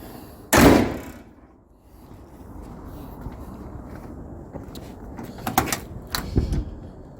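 Door of a 1968 Ford F100 truck swung shut with one solid, loud slam up close, followed by a few faint knocks and rattles.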